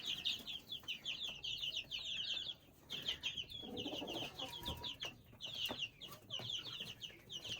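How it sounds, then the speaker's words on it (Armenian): Chicks of a brooding hen cheep continuously in a dense, high-pitched chorus, close by and fairly loud, with a brief soft clucking or rustle partway through and no talking. "թխսի ճուտիկներն են։"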